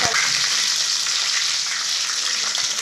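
Chillies and garlic hit hot oil after the mustard seeds have popped, making a dense, steady frying crackle that stays loud and even throughout, with no talking.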